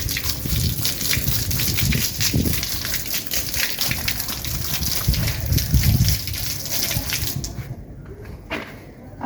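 Water gushes from a pipe onto a house floor during washing, a steady splashing rush with sloshing bursts that cuts off abruptly near the end, leaving a few faint drips.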